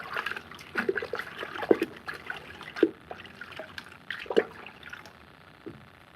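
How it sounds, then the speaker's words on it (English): Faint irregular trickling and soft fizzing pops of water soaking into porous clay pots, including a pitcher and a teapot, with scattered drips and crackles in a quiet room. "You guys hear those? Just like the water getting absorbed into them."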